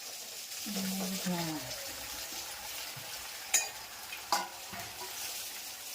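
Sesame seeds and curry leaves sizzle in hot oil as a tempering over homemade Gujarati dhokla. A steady crackling hiss is heard up close, a voice speaks briefly near the start, and two sharp utensil clacks come later.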